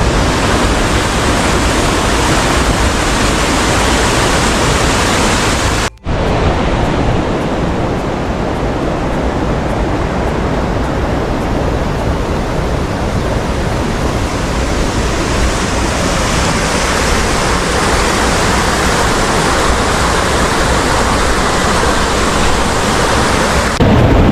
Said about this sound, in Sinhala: මේ ඔයගොල්ලන් සද්ද ඇහෙන ඇති වර්ණගල ඇල්ලේ